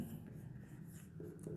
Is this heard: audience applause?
no